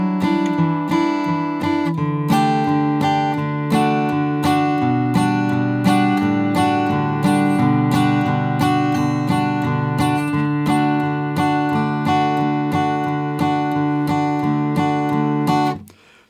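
Guitar in standard tuning plays the intro of a song, steady picked chords ringing with clear repeated attacks, close and alone, fading at the end.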